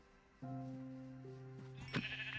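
A single sheep bleats in Minecraft, one clear wavering call close by, followed by a brief sharp game sound.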